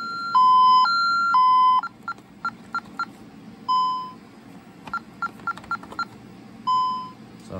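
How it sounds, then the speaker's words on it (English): A sequence of electronic signaling tones from an ITI CS-4000 central station alarm receiver, showing an alarm then a cancel: steady dual-pitch beeps, then quick short bursts, a few longer tones, and more rapid chirps over a low hum. "I'll show activating an alarm and then canceling it in the same thing"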